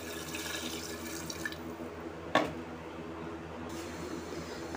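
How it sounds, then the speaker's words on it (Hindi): Fresh water is poured steadily into a pot of beef in a home kitchen, a continuous splashing, running-water sound with a brief clink partway through. "अब इसमें साफ़ पानी और ताज़ा डालूँगी"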